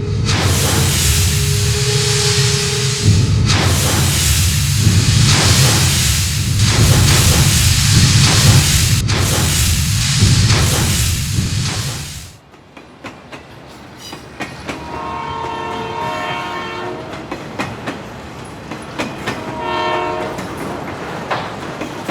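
A train in India rumbles past loudly and steadily at close range with clattering wagons and a horn, then falls quieter with a lighter, more distant rolling and metallic clacking.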